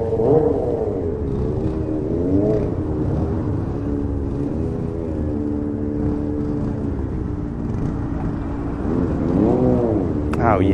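A car doing a burnout at a Friday night event holds a loud, steady engine drone with rising and falling revs throughout, while people talk over it.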